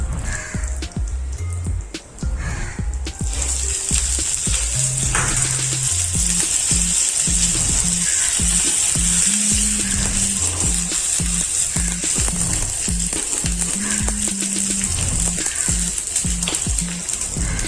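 Mustard seeds, urad dal, curry leaves and asafoetida sizzling and popping in sesame oil in a kadai, a steady loud hiss with crackles running throughout, with a faint tone underneath.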